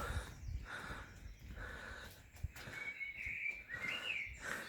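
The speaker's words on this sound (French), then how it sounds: "J'entends les oiseaux." Birds chirp and whistle faintly in the open air, a few scattered calls over a soft outdoor background.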